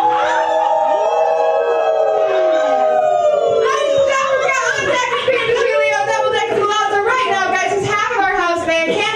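Several voices of an open mic crowd howl together in long, wavering, rising and falling cries, loud and close, overlapping like a chorus of wolves imitated by people.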